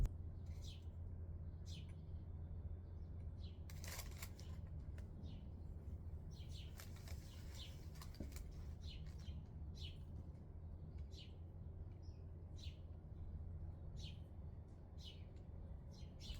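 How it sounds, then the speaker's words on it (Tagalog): Small birds chirp repeatedly in short, high tweets over a soft outdoor hiss, faint and scattered, with a brief rustle partway through. "Tingnan nyo, nakaka-relax yung mga huni ng ibon."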